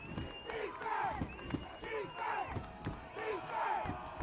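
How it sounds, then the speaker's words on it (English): A high school football playoff crowd, Newton at Westwood, chanting for defense in steady rhythmic waves from the stands, loud and continuous with a commentator's voice over it. "Westwood crowd under us calling defense. The Newton crowd on the other side yelling for the offense."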